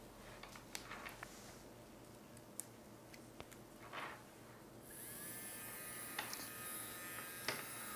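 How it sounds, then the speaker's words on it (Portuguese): A dental handpiece spins a blue finishing disc on a mandrel to polish composite resin, a faint high-pitched whine starting midway and holding steady, with small clicks before it. "Observem que eu entro com o disco 45 graus e vou jogando para dentro para ir arredondando as minhas arestas"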